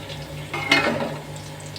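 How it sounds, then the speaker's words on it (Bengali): Potatoes frying in a pan with zarda food colouring and salt: a soft, close sizzle that swells into a brief louder burst of crackling midway, then settles back to a gentle hiss, with no talking. "আলুগুলো ভেজে নিচ্ছি জর্দা রং আর লবণ দিয়ে"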